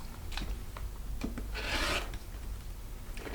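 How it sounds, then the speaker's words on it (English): A rotary cutter slicing the selvage edge off quilting fabric along a ruler, a single close, quiet raspy stroke lasting about half a second against low background hiss, with faint taps before and after. "you're first going to start with cutting off the selvage edge and make a nice straight edge"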